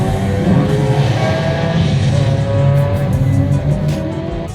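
A McLaren F1 LM race car engine runs loud and close with a steady high-pitched drone and rising harmonic tones, as if idling or revving gently.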